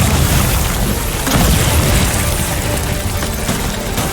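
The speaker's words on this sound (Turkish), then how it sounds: "Bomba atıyoruz." A bomb blast in the video game Death Stranding, a loud, dense rumbling boom that fills the whole stretch with continuous low-end roar and crackle, heard up close with no talking.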